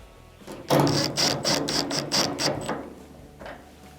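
Quarter-inch screws being driven back into a dryer terminal block, a quick series of about eight sharp ratcheting clicks from a hand tool, close and loud, then a single faint click.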